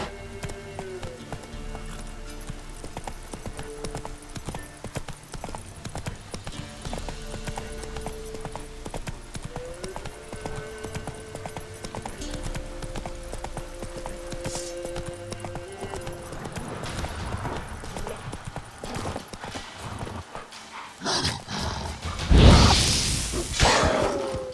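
Roach the horse galloping in The Witcher 3, a continuous fast clip-clop of hooves with a musical score beneath, ending in a louder whooshing burst near the close.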